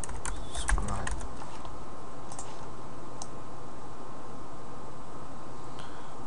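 Keys click on a computer keyboard during text entry, with a quick cluster of taps at the start followed by a few sparse, isolated clicks over a steady background hiss.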